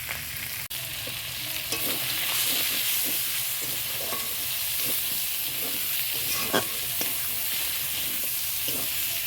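Pre-fried spice masala stirred in a hot pan, a steady sizzle broken by frequent scraping and tapping strokes of a spoon.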